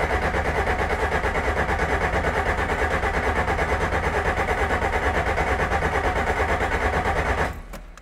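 Engine of a 1973 Toyota Corolla TE27 rally car running steadily at a loud, close, rough idle with a fast rhythmic pulse, then suddenly cut off near the end.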